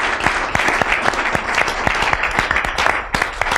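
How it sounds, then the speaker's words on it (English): Steady audience applause at an evening panel discussion on hiring, a dense wash of claps with sharper individual claps standing out, fairly close and loud throughout, no talk over it. "So let's give them a round of applause just for coming tonight"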